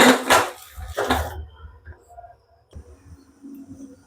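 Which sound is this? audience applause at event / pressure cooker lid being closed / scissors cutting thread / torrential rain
pressure cooker lid being closed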